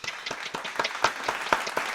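A small group claps in a round of applause for the Charlotte Hornets, with sparse, uneven hand claps of moderate loudness for about two seconds.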